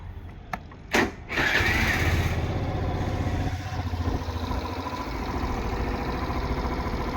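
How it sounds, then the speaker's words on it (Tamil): A used vehicle with 26,000 km on it is cranked over briefly, catches, and settles into a steady, smooth idle that runs on loud and close, with no knocking. "அதே மாதிரி நான் உங்களுக்கு வண்டியை ஸ்டார்ட் பண்ணி காமிக்கிறேன் பாருங்கள்"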